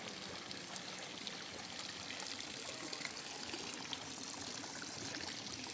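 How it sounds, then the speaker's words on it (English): A small water feature in a tropical botanical garden in Kauai, Hawaii, trickling and splashing in a steady, even stream, faint and continuous, with no one speaking. "Got a nice little water feature."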